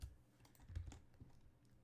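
Computer keyboard typing during 3D horror game development in Godot, a quick run of soft, close key taps with a few louder clacks, fairly quiet and without talk.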